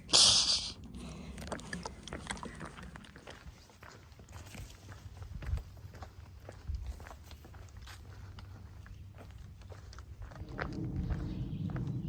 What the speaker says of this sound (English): Emma, someone set a horse on the trail.